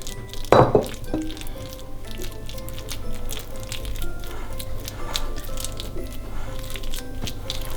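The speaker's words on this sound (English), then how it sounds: "Let's start scooping it all into the pudding bowl" Christmas pudding mixture being scooped into a pudding bowl, with a wet squelching plop near the start and soft sticky scraping and clinks of a spoon against the bowl continuing quietly afterward.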